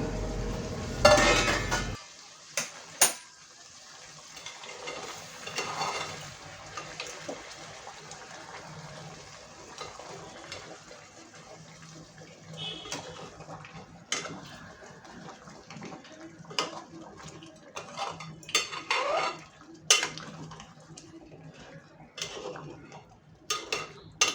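Mutton stirred and sautéed in a pot for a homemade curry after water for steaming goes in, giving scattered metal clinks, scrapes and soft watery sloshes at a fairly quiet level, with no talking.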